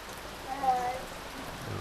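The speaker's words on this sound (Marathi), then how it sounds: "ते बघा पाऊस पडतोय" Rain falls outdoors in a Konkan village near Rajapur, a steady close wash of soft hiss and patter that holds evenly throughout, with no clear voices.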